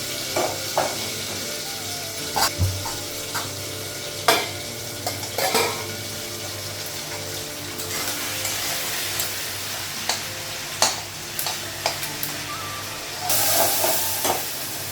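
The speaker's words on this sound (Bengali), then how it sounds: "ডালটা ফোড়ন দিব, পাঁচফোড়ন দিব, কাঁচা লঙ্কা, শুকনো লঙ্কা।" Dal being tempered with five-spice seeds and green and dried chilies in hot oil, a steady close sizzle with repeated sharp clanks and scrapes of a stirring spoon against the pan.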